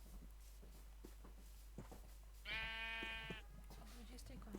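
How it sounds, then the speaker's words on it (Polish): A single short Minecraft sheep bleat, clear and synthetic-sounding, rises over a quiet background with a low steady hum and faint soft steps. "No trudno, jedna owca."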